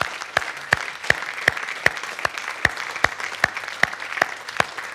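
A church congregation claps in a slow, even beat, sharp hand claps landing roughly every third of a second over a soft murmur of the room.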